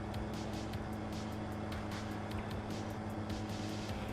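A tractor engine in a farming video game drones in a constant, even low rumble with a regular ticking pulse running through it. It stays steady throughout with no speech.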